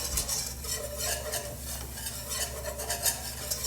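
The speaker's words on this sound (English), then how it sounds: "You gotta get this all mixed up before you do anything else so there's no clumps." Roux being stirred in a pan for scalloped cheesy potatoes, a steady scraping swirl of a utensil with a soft sizzle beneath, close and continuous with no talking.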